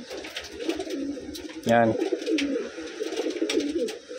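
A Wantai pigeon gives a short, close cooing call over steady background bird chatter and noise, with a brief spoken word nearby.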